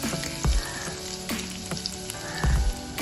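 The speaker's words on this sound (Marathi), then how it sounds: "तेल गरम झालं की त्यामध्ये एक मध्यम आकाराचा चिरलेला कांदा घालायचा आहे" Chopped onion sizzles in hot oil in a pan, a dense continuous frying crackle with a few louder thumps and scrapes of stirring near the start and end.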